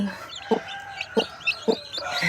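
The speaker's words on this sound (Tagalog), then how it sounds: "Tingnan natin kung ilan na yung napisa na sisiw." A brooding native hen clucks low and close in three or four evenly spaced notes, while newly hatched chicks peep softly and high beneath her, with no voices.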